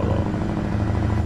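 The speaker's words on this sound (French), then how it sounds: "je suis pas un fada non plus des moteurs de camion, mais le bruit, c'est... Attends, rétrograde" A heavy truck engine in Euro Truck Simulator 2 rumbles loudly and continuously, a deep close drone with a slight rattling texture, heard alone.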